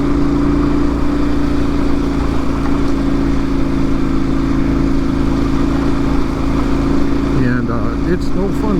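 A KTM 1090 Adventure R, a 600-pound adventure motorcycle, riding on a slick wet desert road, its steady loud engine drone and road rush constant throughout, close to the rider, with wind noise and speech over it.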